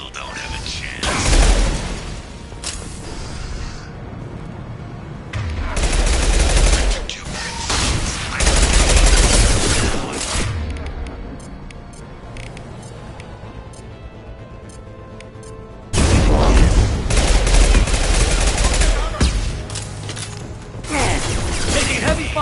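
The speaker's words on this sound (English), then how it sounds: "Taking heavy fire." Heavy gunfire in the video game Mass Effect 2, loud sustained bursts of automatic fire that come and go in waves among mechanical clatter, with occasional voices in the game.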